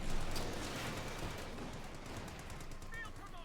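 Rifle fire crackles in Company of Heroes 2 as a squad of American riflemen attacks, rapid overlapping shots in a dense battlefield din, with a commentator talking over it.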